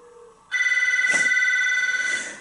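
A cell phone calling a house from inside a truck: after a faint tone, a loud, steady electronic ringback tone starts and warbles evenly, close and alone.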